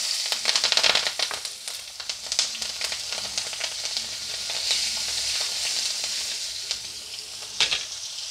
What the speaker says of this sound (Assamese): এই তেলখিনিতে মই দি দিছোঁ সৰিয়হ তেল আৰু অলপমান পিঁয়াজ আৰু কেঁচা জলকীয়া।